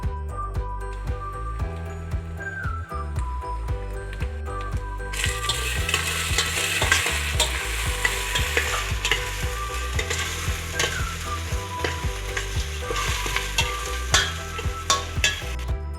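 Turmeric, cumin and red chili powder fry with a shrimp curry base for Chingri Malaikari, sizzling steadily and loudly in a pan while being stirred, the crackle swelling brighter after a few seconds and continuing without voices.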